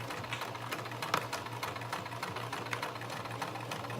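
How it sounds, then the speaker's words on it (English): A sewing machine stitches fabric from one side to the other in a steady, moderately loud whir with a fast regular pulse, running alone without pause. "I'm stitching from one side to the other"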